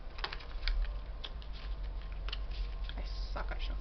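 A deck of playing cards being shuffled by hand, soft riffling and rustling bursts repeating across the clip over a low background hum, fairly close.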